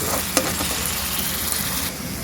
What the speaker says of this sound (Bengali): পেঁয়াজের সাথে রসুনের পেস্টটা ভাজা ভাজা হয়ে যাবে